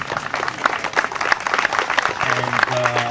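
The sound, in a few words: round of applause at farmers market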